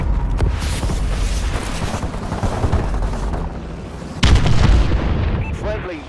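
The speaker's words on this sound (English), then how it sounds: "Enemy missile strikes incoming" Enemy missile strikes land in the video game ASM1 as deep, rumbling explosions, one sustained blast followed by a louder second impact at about four seconds, with faint game voices in the mix.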